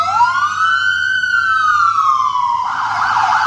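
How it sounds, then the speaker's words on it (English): An emergency vehicle siren wails loud and close, a single long rising and falling sweep with no voices over it. "there is a siren coming. Y'all can hear it."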